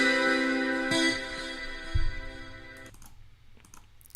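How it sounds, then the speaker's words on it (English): An FL Studio distortion hybrid guitar preset rings out in sustained, harmonically rich chords, a brief strike near one second, then fades to quiet with scattered clicks near the end. "I have this guitar selected, the distortion hybrid."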